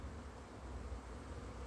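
Honeybees swarm over a hive frame that holds stored honey, making a dense, steady, close buzz that fills the whole moment with no speech.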